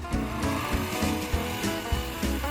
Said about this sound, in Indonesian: Kemudian bakal kita potong menggunakan mesin benso.